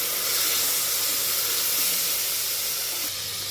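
Soaked green peas hit hot oil with frying onions and set off a loud, steady sizzling hiss that fills the whole moment and eases slightly near the end, close up with no voices.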